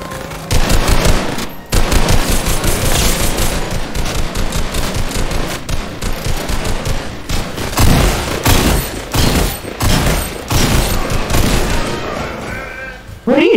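Relentless rapid gunfire in Fortnite, loud close bursts of shots running almost nonstop with a few short pauses.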